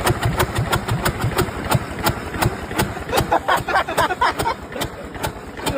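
A farm tractor engine misfiring on two cylinders after spark plug and firing order trouble, chugging loudly and close with a steady, uneven rhythm of sharp firing pulses.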